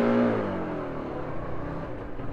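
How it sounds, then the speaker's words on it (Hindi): A motorbike engine runs close by during a ride through a village near Sarda Dam and Tanakpur, giving a steady mid-range drone that swells briefly at the start and then settles, with no talk. "यहाँ पे अंदर को साउंड टेस्ट करें बाइक की"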